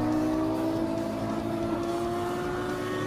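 A Ferrari sports car engine holds a loud, high, sustained drone as it revs, with a steady rising whine and no voices over it.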